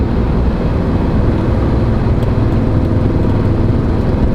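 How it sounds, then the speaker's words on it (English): Close, loud engine and exhaust drone from an Audi B7 RS4 while driving, with a few faint crackling burbles near the end as the throttle lifts. No voices. "off acceleration burbles that you get from the exhaust"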